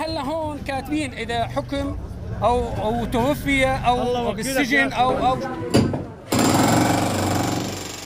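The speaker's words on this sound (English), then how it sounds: "walls are still being drilled into" Walls being drilled into during a search for secret rooms and hiding places in Syria. Loud, harsh mechanical hammering runs under busy voices, then a sustained blast of drilling noise takes over near the end.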